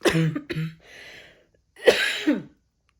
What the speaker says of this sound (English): I just swallowed bad, and now I'm coughing